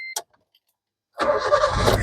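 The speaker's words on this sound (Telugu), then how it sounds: "పెట్రోల్ కార్ అండి సింగిల్ సెల్ఫ్ లో కార్ స్టార్ట్ అవుతుంది" A 2010 Maruti Suzuki Ritz VXI petrol car starts on a single crank after a brief click and a second of silence, the engine catching and settling into a steady, close, fairly loud run.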